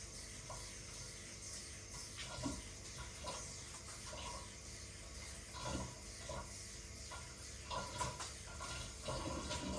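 Running tap water rinses hands during hand washing, a continuous splashing flow with small irregular surges, quiet and close.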